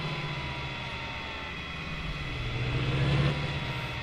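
Steady drone of slow car traffic in a farming video game, a low engine hum that swells slightly near the end as a vehicle draws closer, with no talk.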